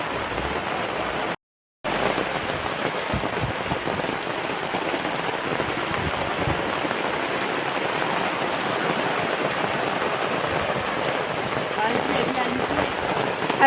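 Heavy rain pours down at a food stall in a zoo, a dense, continuous hiss and patter after a short gap at the start.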